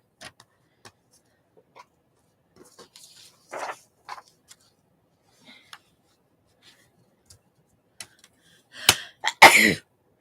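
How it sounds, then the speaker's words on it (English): A single loud, sharp sneeze bursts out near the end after a mostly quiet stretch of faint rustles and small handling noises. "that was a good sneeze."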